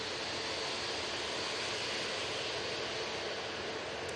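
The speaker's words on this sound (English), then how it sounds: "This is the A321neo for easyJet. That's going off to Malta." An easyJet Airbus A321neo departing Manchester Airport for Malta sends a faint, distant, steady jet engine roar and hiss, even and unbroken, with no one speaking.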